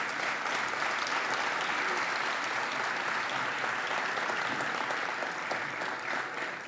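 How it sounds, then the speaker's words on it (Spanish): Sustained audience applause at a sports awards ceremony honoring a boxing champion, dense steady clapping from a sizable crowd at moderate distance, continuing evenly throughout with no talk. "Un fuerte aplauso una vez más."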